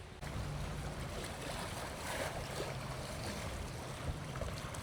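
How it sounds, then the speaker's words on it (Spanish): Choppy water on Lake Monroe slaps and churns steadily in a broad, continuous wash with a low rumble, heard close and alone without any voices. "Está movidita el agua hoy."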